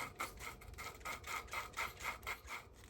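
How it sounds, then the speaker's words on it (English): A valve on an Audi 2.0TFSI cylinder head is lapped with a suction-cup tool, giving a coarse gritty grinding that rises and falls in quick regular back-and-forth strokes, close and fairly quiet, with no one talking. "just take the suction cup and push right on the valve, and then you'll hear it kind of a coarse grinding sound"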